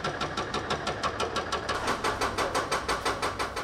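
Rhythmic hammering from construction work on a city street in Poland knocks in a steady repeated beat, about four blows per second, loud and continuous with no voices.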